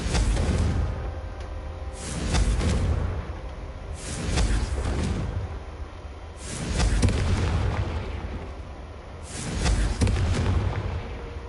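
Repeated Confringo fire spell blasts in Hogwarts Legacy, four or five loud booming bursts every couple of seconds over a rumbling game backdrop.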